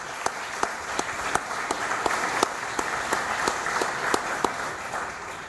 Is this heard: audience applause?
yes